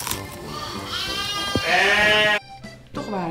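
Sheep in a sheepfold bleat loudly and close, long wavering cries overlapping one another with a brief pause before another bleat starts.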